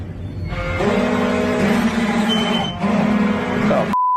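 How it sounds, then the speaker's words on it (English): Alarms sound inside a fire station, a loud, steady electronic buzzing tone with harmonics that drones continuously for several seconds, briefly dips, then resumes before cutting to a single pure beep. "We got alarms going off."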